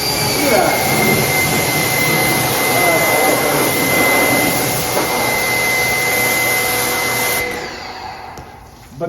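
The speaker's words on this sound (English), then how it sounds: "this pressure washer seems to be working just fine for what I need it to do" SUGIFT pressure washer blasting years-old grime off a car shop floor, a loud steady high-pressure hiss with motor hum running continuously before cutting off near the end.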